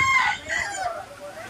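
A chicken on an organic farm gives a short, strained crowing call, two rising cries close by followed by a fading tail, with faint background noise.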